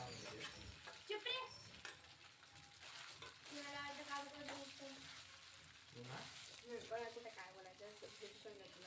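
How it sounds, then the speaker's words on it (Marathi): Mashed potatoes frying and being stirred in hot ghee over a medium gas flame, a soft continuous sizzle with scraping stirs, heard faintly beneath a person talking throughout. "तूप तापल्यानंतर आपण बारीक करून घेतलेले बटाटे याच्यामध्ये मिक्स करून घ्यायचे आहेत मध्यम गॅसवर"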